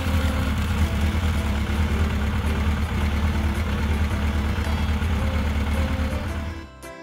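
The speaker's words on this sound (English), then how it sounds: "Motorcycle." A motorcycle engine runs at a steady idle, a loud continuous low rumble heard alone that cuts off abruptly at the end.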